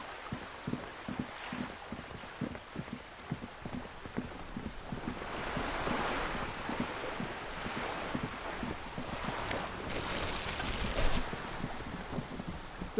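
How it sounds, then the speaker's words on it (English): Rain falling on wooden boards and on the surrounding water in the Disco Elysium video game, a steady patter with rhythmic knocking drips. A brief brighter burst comes near the end. "All around you, rain keeps falling down. On the wooden boards she's standing on, and on the water around you."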